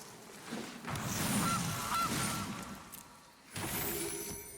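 Goose honking from Magic: The Gathering Arena gameplay, a few loud, nasal honks spread across the clip over steady game background sound, with no talking.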